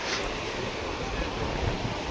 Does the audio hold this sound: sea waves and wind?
yes